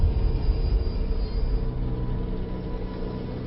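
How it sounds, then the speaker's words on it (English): A train passes in a TV drama scene, a steady low rumble that is strongest at the start and slowly fades, with no voices heard. "this is the last train"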